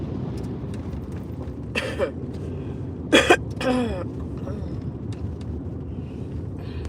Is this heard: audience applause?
no